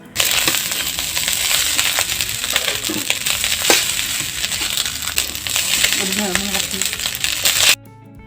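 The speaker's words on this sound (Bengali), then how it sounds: "এভাবে আমি অনবরত নেড়ে যাব" Leftover cooked rice being stirred and fried in a pan over medium heat: continuous close scraping and crackling from a spatula working the grains, steady and dense for about eight seconds before stopping abruptly.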